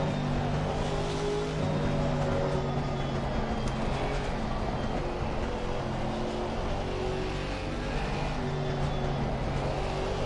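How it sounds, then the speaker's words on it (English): Mercedes-AMG GT4 race cars drone around the Circuit of the Americas, a steady, fairly quiet engine hum with layered tones and no talking. "I think the AMG sounds a little better than the Aston."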